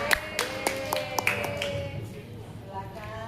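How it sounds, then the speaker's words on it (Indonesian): A short burst of hand clapping at a women's church service, a handful of sharp claps in quick succession, fading into a murmur of voices and room noise. "tepuk tangan."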